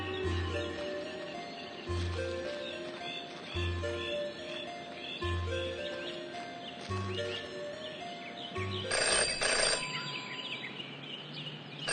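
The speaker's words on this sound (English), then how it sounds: "Jenny had learned never to ignore a ringing phone." A telephone rings repeatedly in the detective video game Jenny LeClue, regular buzzing bursts about every two seconds over a soft ambient background, with a brighter burst of sound near the end.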